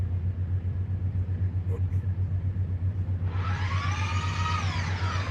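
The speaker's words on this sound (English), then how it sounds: "This is their first kind of test car for electric racing" Electric racing test car driving past, a low steady rumble with a rising, whining electric tone that swells up in the last couple of seconds, heard under faint talk.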